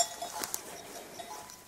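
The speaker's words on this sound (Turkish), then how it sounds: "Tarlamızda koyunlar otluyor." Sheep grazing in a field in Dura, Manyas, Balıkesir: a few faint bell clinks and small knocks over quiet open-air ambience, with no one speaking.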